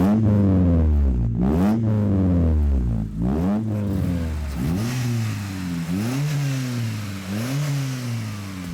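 A yellow 1996 Mitsubishi Colt GTI's transverse front-mounted 1.8-litre 16-valve DOHC 4G93 engine, rated at 140 hp, is blipped repeatedly, rising and falling in about six close, loud revs with no talking.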